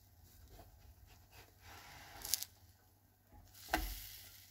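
Gluten-free pancakes cooking in a pan after being flipped, with a faint, quiet sizzle and a couple of brief scraping clinks from the spatula.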